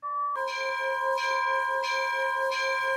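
In a railway video game, the Flying Scotsman locomotive's bell rings loud and near with a bright metallic tone, striking in a regular rhythm of about four strokes, each ringing on into the next.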